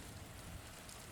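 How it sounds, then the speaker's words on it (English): Rain falling steadily, a soft continuous hiss of drops on surfaces, faint and even throughout with no voices. "The rain resumed, soaking her instantly."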